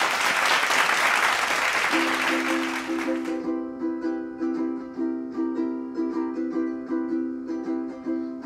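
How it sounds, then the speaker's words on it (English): Audience applause at a school talent show swells loudly for about three seconds, then quickly fades as plucked ukulele-like music and singing take over with a steady rhythmic strum. "Let's give them a round of applause."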